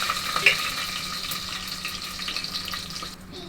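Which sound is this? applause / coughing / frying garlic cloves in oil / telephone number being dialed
frying garlic cloves in oil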